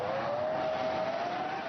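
A Formula 1 car powers off the starting grid in a computer-controlled launch, its engine giving one continuous rising whine over a dense roar, loud and steady throughout.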